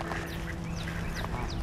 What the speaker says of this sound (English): look at the two little ducks, Samuel.